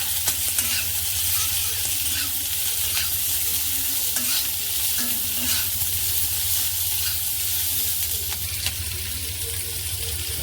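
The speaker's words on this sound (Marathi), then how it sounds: "हे सुद्धा आपण हे तेलात तळून भाजून घेऊ" Onions sizzle steadily in hot oil, frying until pink for a chicken dish, with a constant crackling hiss and occasional stirring clinks, close and loud.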